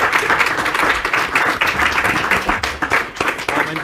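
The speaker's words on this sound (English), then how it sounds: "Let's give them a big round of applause." A convention crowd applauds a comics panel at MICE 2024, loud, close clapping with a few whoops, continuous and even, fading slightly near the end.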